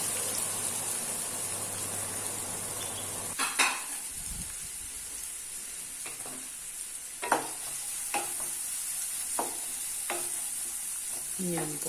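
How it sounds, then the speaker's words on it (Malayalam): Chopped onion sizzles in hot oil in a pan while being stirred for a drumstick cutlet snack, a continuous frying hiss broken by occasional clinks and scrapes of a spoon against the pan. "എൻ്റെ അമ്മായി ഇതിലേക്ക് ആദ്യം സബോള ചേർത്ത് കൊടുക്കുകയാണ്"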